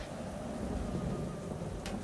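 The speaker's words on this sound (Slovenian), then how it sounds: "Preteča nevihta je vrtinčila, obračala drevesa, poškodovala hiše, dež pa je padal kot iz škafa." Steady, continuous hiss of pouring rain in a cartoon thunderstorm on a summer afternoon in a forest, with a brief brighter crackle near the end and no voices.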